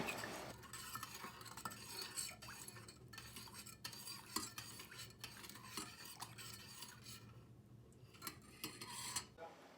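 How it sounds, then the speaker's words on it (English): Chai tea with milk and cream cooking in a pot, stirred with a spoon that scrapes and clinks against the metal over a soft, continuous simmering hiss, close and quiet. "Let the chai tea cook and stir it."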